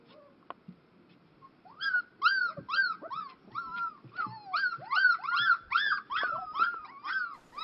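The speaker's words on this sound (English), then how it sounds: "They experiment with their vocalization, so their first attempts at barking and growling at each other." Sled dog puppies whimper, yip and squeal in a busy run of high, rising-and-falling cries that overlap one another, fairly close and steady for most of the stretch after a brief quiet start.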